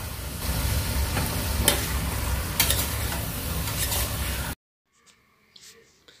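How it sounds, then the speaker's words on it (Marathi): Marinated mutton is added to onions in a pressure cooker and stirred, giving a loud continuous sizzle with scraping stirs for several seconds before it suddenly drops to near silence. "आता आपण या कांद्यावर घालूया कुकरमध्ये आणि परतून घेऊया"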